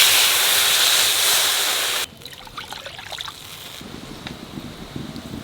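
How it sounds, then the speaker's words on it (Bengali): Water poured into a pan of masala-cooked Katla fish curry, a loud rushing splash for about two seconds, then cut off to faint sizzling and bubbling. "আর জল দিয়ে দেবো।"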